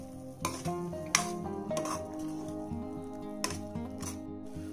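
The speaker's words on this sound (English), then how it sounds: "you can now mix this really well with the onions" Paste being stirred into softened onions in a pan for paneer do pyaza, with soft scraping, clinks of a spoon against the pan and a few sharper knocks over a low steady cooking bed.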